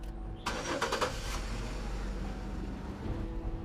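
A car engine cranks briefly with a quick burst of starter chatter, then catches and settles into a steady low idle rumble, close and moderately loud, no voices.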